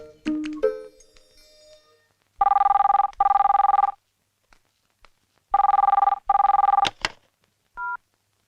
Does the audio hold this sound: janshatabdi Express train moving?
no